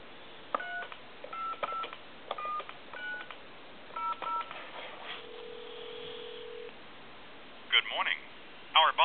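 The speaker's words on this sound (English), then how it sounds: "Give you some dial tone. Let's call, say, like a time and temp." A Lamborghini car telephone hooked to a phone line gives off short bursts of dialing beeps, then a long steady dial tone, then a few final tone bursts, all with a thin, narrow telephone-line quality.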